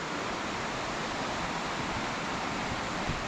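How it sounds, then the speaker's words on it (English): Steady broadband rush of Baker Creek flowing right outside a modern lodging in Banff National Park, a constant, even wash of water with no pauses or voices. "We're gonna hear that creek out our window all night tonight."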